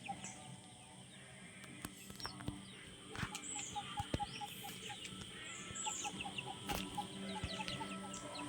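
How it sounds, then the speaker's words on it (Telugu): A large chicken clucks in a forest homestead, giving a series of soft, evenly spaced clucks with other bird chirps and faint rustling in the background. "కోడి కూడా చాలా పెద్ద కోడి"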